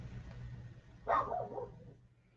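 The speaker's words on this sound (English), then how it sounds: "Barking dogs." A dog gives a single short bark in the middle, moderately close over faint low background hum.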